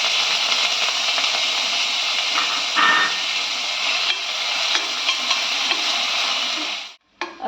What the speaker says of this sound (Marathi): आता इथे कांदा मी परतून घेतलेला आहे।